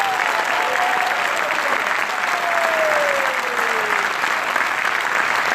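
Crowd at a political rally applauds steadily and loudly throughout, a continuous wash of many hands clapping, with a faint descending whistle-like tone running underneath.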